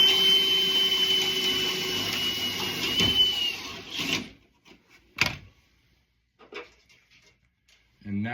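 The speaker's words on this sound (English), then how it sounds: "We're going to drill this little guy out right here." A power drill whirs steadily for about four seconds, drilling out a hole during a bedside install on a Honda Acty kei truck, then cuts off, followed by a few scattered knocks and handling noises.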